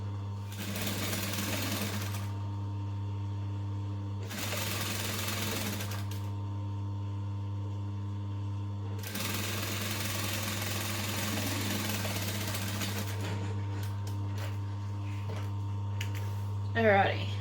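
A sewing machine stitching a fabric seam with a quarter-inch allowance, three close bursts of rapid mechanical whirring separated by pauses, with a steady low hum throughout.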